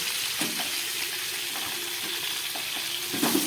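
Salted potato, cauliflower and pointed gourd fry in hot oil. A steady, close crackling sizzle continues throughout, with regular soft knocks of a spatula turning the pieces.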